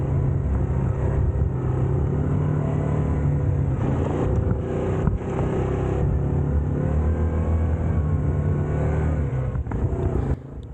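Yamaha Grizzly 700 ATV engine on an off-road trail, a continuous loud low rumble with some rising revs and brief dips midway and near the end.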